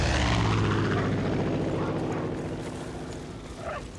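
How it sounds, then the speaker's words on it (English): A propeller plane drones loudly overhead in the Far Cry 5 video game, a steady low engine rumble that slowly fades over four seconds. "That plane really needs to piss off."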